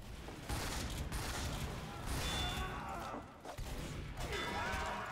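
Engineer's sentry turret in Team Fortress 2 firing on the Citadel map, a dense, continuous rattle of gunfire with clanks and impacts over several seconds amid busy battle noise.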